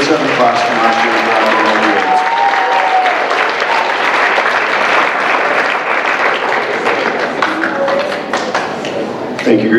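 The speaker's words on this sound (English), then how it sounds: "One more round of applause and pictures for our grade 7 class from last year." A voice briefly, then sustained, dense applause from a school audience at an academic awards ceremony honouring a grade 7 class, with sharp individual claps standing out throughout.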